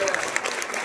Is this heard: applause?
yes